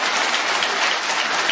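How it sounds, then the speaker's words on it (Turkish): A room full of members claps loudly after a vote at an association's general assembly, producing a thick, continuous wash of applause that sounds close and dense from start to finish. "Güçlü bir alkış."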